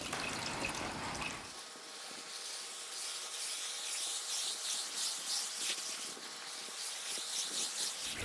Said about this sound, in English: We're gonna rinse from the top to the bottom.